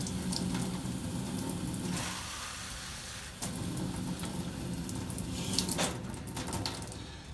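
Water runs and splashes steadily into a trombone hand slide being rinsed, a continuous close pouring wash that briefly drops off near the middle, then resumes.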